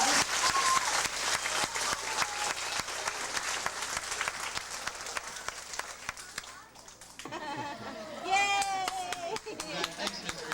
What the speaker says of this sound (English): Let's give Taylor a great big round of applause.